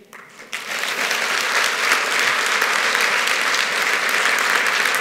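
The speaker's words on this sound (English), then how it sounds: "by a show of applause, does everyone feel like we achieved those goals this week?" Conference audience at a London DevOps enterprise summit breaks into applause after a brief quiet start, the dense clapping swelling quickly and holding steady and loud to the end.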